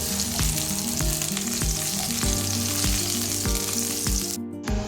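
Garlic frying in a pan with ginger for a crab dish gives a loud, steady sizzle, punctuated by regular clicks of stirring throughout.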